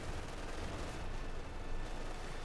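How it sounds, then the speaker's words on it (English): Artillery strike in the World War II strategy game Company of Heroes 2: a dense, sustained roar of shell blasts and gunfire, loud and unbroken, with no talk. "And we got another artillery strike in here from Major."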